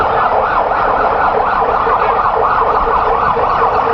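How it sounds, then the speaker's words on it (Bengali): An ICU ambulance siren wails continuously and loudly at Osmani International Airport in Sylhet after a plane skidded off the runway and caught fire, its pitch rising and falling in a steady repeating cycle. "আমরা দেখতে পাচ্ছি আইসিইউ অ্যাম্বুলেন্সও করে পাঠানো হচ্ছে"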